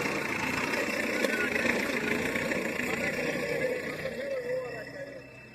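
A tractor engine idles in a farm field where its trolley is stuck, a steady mid-pitched rumble running continuously at moderate distance and fading slightly toward the end.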